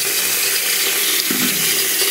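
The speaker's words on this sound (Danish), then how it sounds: "Kan se, vandet render, og den virker stadigvæk." A Sony Xperia arc S phone held under a running tap: a steady, close hiss of water splashing over it continues unbroken for the whole stretch, with a brief lower splash midway.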